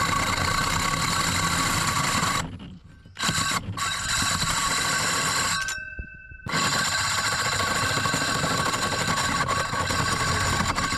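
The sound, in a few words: 4 3/4 inch hole saw cutting through roof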